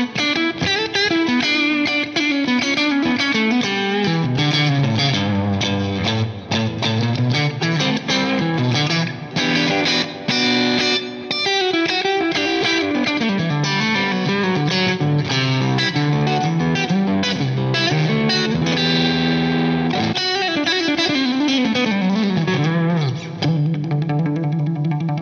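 Aggressive electric guitar runs through digital distortion and reverb emulations for a modern, artificial tone, sustaining loud and continuous with sweeping melodic bends and no talking.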